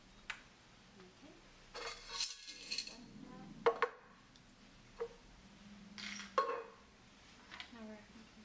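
Teaspoons and small objects picked up and set down during a hand function test: scattered light metallic clinks and taps on a hard surface, irregular and close, with quiet pauses between.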